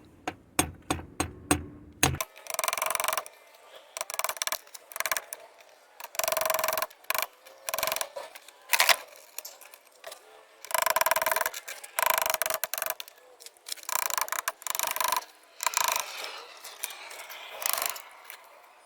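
Plastic speaker grille on a 2013 Mini Cooper R56 being pried loose and snapped off, with a quick run of sharp clicks followed by scattered scraping and cracking bursts.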